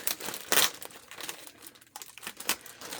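A blade cutting carefully through packing tape on a mailed fabric package, with a series of close, quiet crinkling and tearing scrapes in irregular short bursts.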